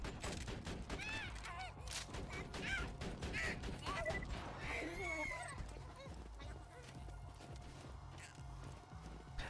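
Gunfire in the video game Borderlands 2 comes as rapid bursts of sharp shots over busy game effects and music, fairly quiet, with someone talking throughout.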